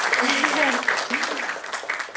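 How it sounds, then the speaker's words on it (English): Brief burst of audience clapping for a national award winner at a design and innovation talk event, moderately loud and continuous over two seconds, with a voice murmuring underneath. "This deserves an applause."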